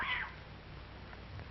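Kittens meow during a friendly wrestling match, with a single faint, high mew at the very start followed by quiet rustling and low background noise for the rest of the moment.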